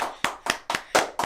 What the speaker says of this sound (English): Jarrell is the hater in the room because he just did a slow clap for no reason